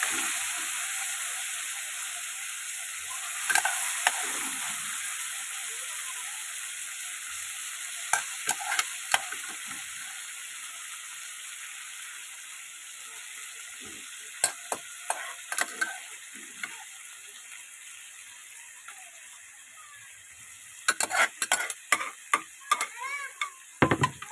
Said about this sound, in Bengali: তো এটাকে একটু ভালো করে আগে ভাজা করে নেবো মটরগুলোকে